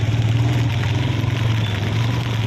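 A motorcycle engine idles steadily nearby, a low throbbing drone with slight fluctuations and no speech.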